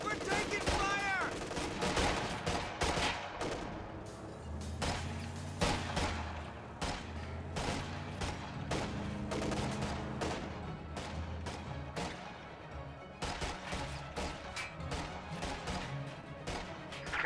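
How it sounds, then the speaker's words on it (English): Video game battle gunfire with rapid bursts of rifle and machine-gun shots and heavier thuds, steady and dense throughout at moderate level, mixed with low rumbling. "We're taking fire!"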